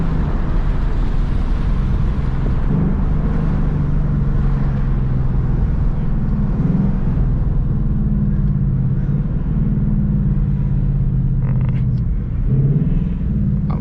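Ford Mustang GT V8 downshifting while cutting through traffic, a loud, close engine rumble that swells with rising revs and falls back, running continuously without talk.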